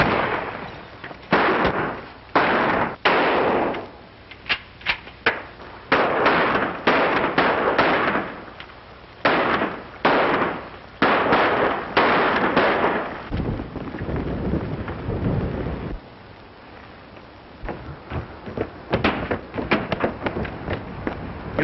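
Gunfire in a 1938 western film, a rapid series of sharp, loud shots and bursts, some clustered close together, with gusty outdoor noise and movement between them.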